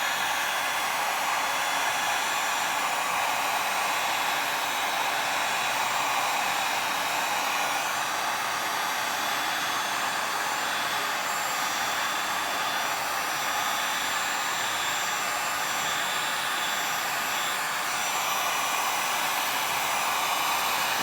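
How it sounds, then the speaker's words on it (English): Heat gun blowing air at high speed across beach-style resin coasters, a steady, close, hissing rush of air that holds unbroken for about twenty seconds with no talking. "I'm going to hold my heat gun as horizontal as possible to the coasters, and I'm going to blow that white out"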